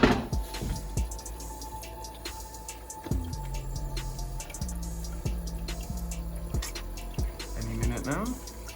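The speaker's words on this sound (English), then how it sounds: "just see how it's getting along once the toilet fills up" Water trickles and drips into the cistern of a newly installed dual flush toilet as it refills, with close, irregular plinks and a faint running flow; low tonal noises and some background sounds occur alongside.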